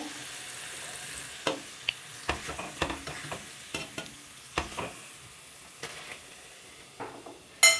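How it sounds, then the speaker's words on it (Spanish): Turkey pieces searing in a hot pan, a continuous soft sizzle close by, punctuated by a series of sharp clacks and scrapes as the pieces are set down and moved. "y ahora pondré las dos presas de pavita que me falta sellar"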